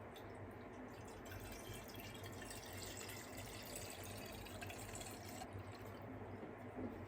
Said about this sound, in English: I got this mason jar, and I'm just gonna fill it up with some Super Thrive water